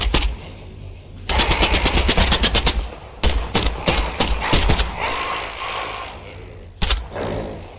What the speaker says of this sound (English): Let's now play with the guns, sound effects of the guns